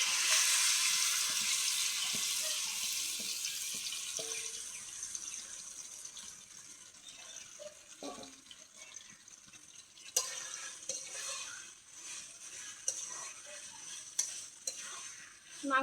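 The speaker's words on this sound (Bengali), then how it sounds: "মাংসটা দিয়ে দিব তেলের মধ্যে" Marinated beef is dropped into hot oil in a kadai and stirred, giving a bright, steady sizzle. Scattered clinks and scrapes of the spoon against the pan cut through it, and the frying hiss softens over time.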